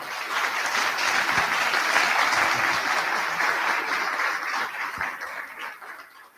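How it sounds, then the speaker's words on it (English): An audience gives a steady round of clapping for about six seconds at a Friday-afternoon talk, dense and even before tapering slightly at the end. "So I think we need a round of applause for all of us."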